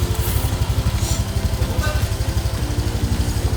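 A rented motor scooter in Da Nang, Vietnam runs with a steady rapid engine putter, loud and close, continuous throughout with no talk.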